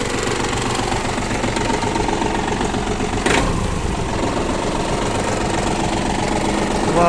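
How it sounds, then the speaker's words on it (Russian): A tractor-driven round baler runs off the PTO shaft, its engine droning and knocking steadily up close, with a sharp mechanical clunk partway through as the baler engages and keeps churning. "Наш пресс-подборщик начинает работать."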